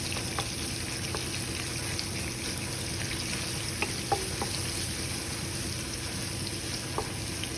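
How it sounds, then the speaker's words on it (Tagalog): Garlic frying in melted butter gives a steady, close sizzle, with a few scattered clicks and taps as it gets stirred, and no voices. "lagay na natin ang ating bawang. Haluin lang siya hanggat mag-golden brown."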